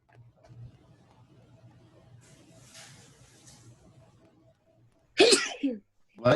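A person sneezes loudly twice in a lecture room over quiet background hum and faint murmuring.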